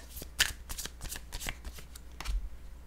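Tarot-style cards are shuffled and one is drawn, giving a quick series of crisp riffling flicks and soft slides at close range, fairly quiet with no talk.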